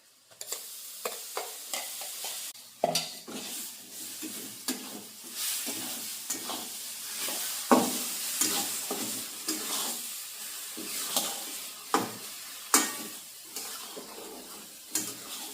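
A spoon stirs a wet paste of ground green chilies, fresh coconut and coriander frying in a pan, steady sizzling under repeated scraping strokes and occasional clinks against the metal, close up, with no talking.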